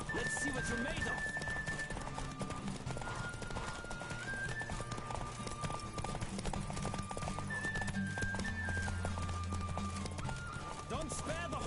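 A horse gallops through a race in The Witcher 2 video game, its hoofbeats pounding in a quick continuous clip-clop beneath game music, with occasional neighing and voices mixed in.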